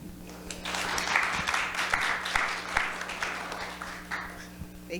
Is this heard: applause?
yes